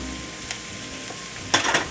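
Shallots, mushrooms and pancetta cook in a pan with a soft, steady sizzle. A few faint stirring scrapes come through, and a brief louder clatter sounds near the end.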